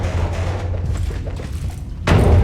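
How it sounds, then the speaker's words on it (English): Dull, heavy banging on walls inside a horror video game, a steady low thudding under murky ambience that ends in a sudden louder burst of impact noise. "you're banging on the walls, so like you barely hear anything"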